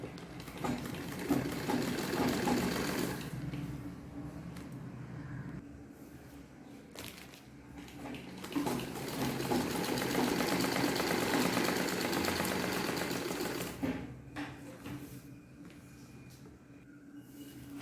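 A sewing machine stitching around a homemade grow bag made from waste materials, running in long whirring bursts with brief pauses between runs, faint and close with no talk.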